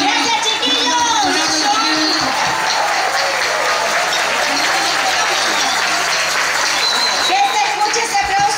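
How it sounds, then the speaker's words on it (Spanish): Audience applause at a church celebration: loud, dense clapping that goes on throughout with crowd voices mixed in and a few whistles. "Que se escuche ese aplauso."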